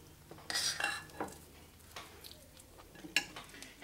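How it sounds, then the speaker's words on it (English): A fork roughs up the tops of overstuffed baked potatoes filled with egg, giving a few soft scraping scratches and light clinks, close and quiet with pauses between strokes. "Dipping my fork in, and I'm going to muss these up a little bit."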